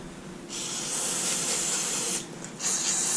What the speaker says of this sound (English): Give it a pretty liberal spray down here.